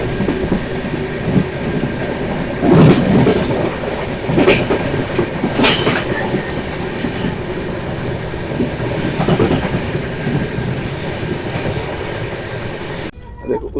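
The Ahmedabad Express, train no. 19484, rushes through a station at speed in dense fog, a loud sustained rumble with rhythmic clickety-clack bursts from the wheels, heard from inside the coach and cutting off abruptly near the end.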